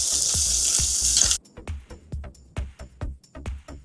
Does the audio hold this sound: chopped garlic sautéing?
yes